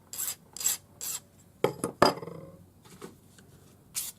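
A hand file rasps across the ends of a short piece of 0.8 millimeter jewelry wire, giving a few short, evenly spaced strokes, then a cluster of sharper scrapes and one more stroke, close and quiet.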